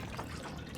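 Water trickles and pours steadily from a toilet cistern in The Long Dark, a brief, soft, continuous liquid sound.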